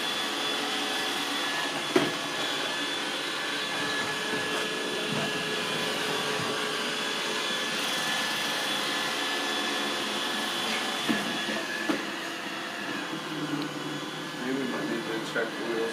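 An iRobot Roomba 805 robot vacuum cleaning an Oriental rug indoors, a steady, loud whirring drone that runs unbroken throughout, with a few faint knocks.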